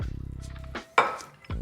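Lentil salad dressed with tahini and salt is mixed in a bowl, giving a few close, moderately loud clinks and scrapes of a utensil against the dish, with a sharper knock near the middle.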